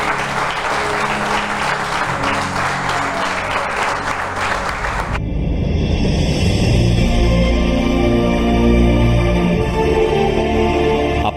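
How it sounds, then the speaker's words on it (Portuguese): A church congregation applauds loudly and steadily throughout, the dense clapping swelling after the first few seconds into a fuller, more resonant roar with music or voices blending underneath. "E vamos aplaudir o Espírito de Deus bem forte."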